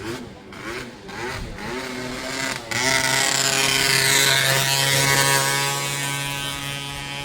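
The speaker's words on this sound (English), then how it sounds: "nice little Leontino. They're good. Great motors, man. Great engine." A Benelli Leoncino motorcycle engine runs nearby during a bike week in Pesaro, Italy, revving a few times before settling into a loud, steady drone.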